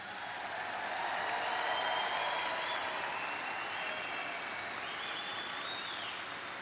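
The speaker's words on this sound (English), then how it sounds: "I want you to give these kids a round of applause" Steady applause from a commencement audience at a College of Physical Activity and Sports Sciences graduation, a sustained wash of clapping from a large crowd in a hall, fairly distant, swelling slightly then holding.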